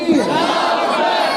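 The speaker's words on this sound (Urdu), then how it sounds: "تمام حضرات مل کر حضرت کا استقبال نعرہ تکبیر و رسالت سے کیجیے۔ نعرہ تکبیر، نعرہ رسالت" Crowd at an Ahl-e-Sunnat religious gathering shouting a Takbir and Risalat slogan in unison, a loud, dense mass of voices sustained through the short burst.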